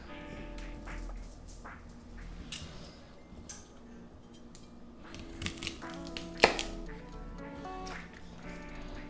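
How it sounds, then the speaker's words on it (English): A knife chops through the bottoms of thick asparagus stalks on a cutting board in a home kitchen, giving a few sharp, close taps amid light background noise, with one louder crisp cut near the end. "You wanna start by taking some and of course chopping off the bottom."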